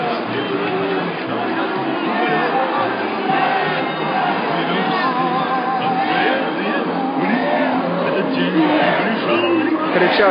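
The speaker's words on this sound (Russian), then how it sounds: "Кричат «Беркут»." Crowd at a Victory Day march in Odessa chanting and shouting "Berkut" in support, a dense continuous roar of many voices close by, with steady babble and shouts throughout.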